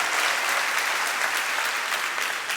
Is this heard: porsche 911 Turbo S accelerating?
no